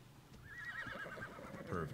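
A horse in the video game Ark gives a single wavering whinny, moderately close and fairly quiet, with faint hoof-like knocks beneath and a low murmur of background sound.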